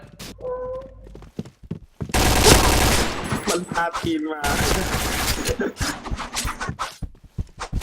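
Rapid bursts of video game gunfire crackle loudly over background music, with someone talking excitedly through much of it.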